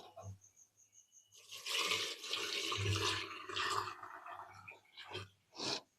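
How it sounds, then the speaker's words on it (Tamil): Hot water poured into a cooking pot of intestine curry after the stove is switched off, a close splashing gush lasting a few seconds and ending in a few trailing pours. "அடுப்பை ஆஃப் பண்ணிவிட்டு நம்ம வெந்நி அதில் ஊற்றிடலாம்."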